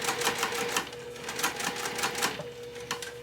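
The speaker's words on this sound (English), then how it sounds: "So I'm going to start by back stitching." Sewing machine back stitching along the seam of a wristlet's fabric lining, a quick run of rapid mechanical clatter with short bursts and pauses, close and fairly quiet, with no talking.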